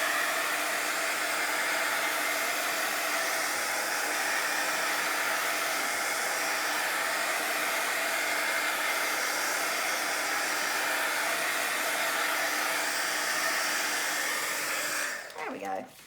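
A heat tool or dryer blowing to dry ink on paper crafts, a steady loud whooshing hum running continuously before cutting off with a brief clatter at the end.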